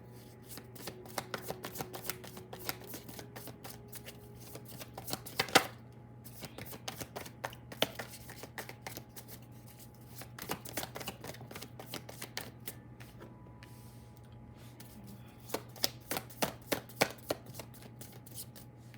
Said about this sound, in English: Your cards are falling so much today.